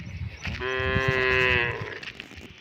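A water buffalo lets out one long, loud, drawn-out low moo nearby, rising and holding for about a second before fading, with outdoor background noise around it.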